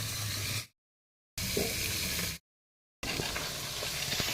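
Puti fish frying in a pan give a steady, close sizzle heard in three separate stretches, broken by two silent gaps.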